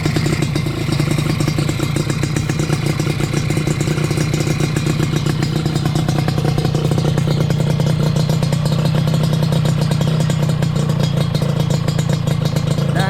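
Suzuki Satria two-stroke motorcycle engine fitted with an OS 100 exhaust: a continuous, close, buzzing drone with rapid rattling pulses that holds steady throughout at a fast idle or light rev, with no talk.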